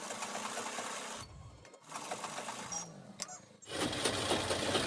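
A sewing machine runs in short bursts, double-stitching belt loops onto a pair of half pants, with pauses between runs of stitching.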